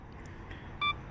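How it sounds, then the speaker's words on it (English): A Sony camera's 2-second self-timer sounds two short, bright electronic beeps about a third of a second apart, close by over a quiet outdoor background at a beach. "2-second timer."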